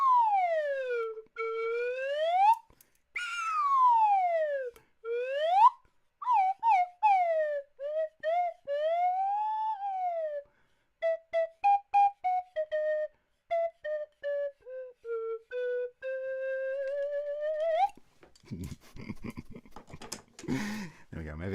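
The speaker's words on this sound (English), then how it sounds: "Here comes the Swanee whistle." A swanee slide whistle swoops up and down in long glides, then short quick chirping notes, ending in a burst of clattering noise.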